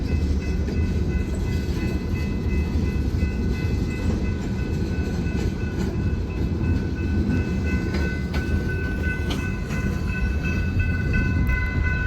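Freight train led by locomotives passing in Columbus, Mississippi, a steady heavy rumble of rolling cars with faint clicking wheels and a few tonal squeals, constant and fairly near throughout with no voices.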